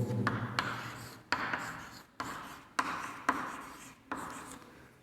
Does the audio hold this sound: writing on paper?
yes